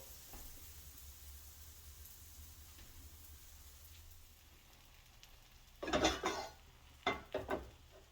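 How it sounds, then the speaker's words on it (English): A soft steady sizzle hums in the background, then a few sharp metallic clinks of utensils against a pot ring out near the end. "So we're just gonna let that sizzle."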